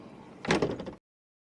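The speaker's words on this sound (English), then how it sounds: "And then obviously you've got your secondary sliding door." The sliding side door of a Ford Transit camper van rolls and thuds shut in one short, close burst, followed by silence.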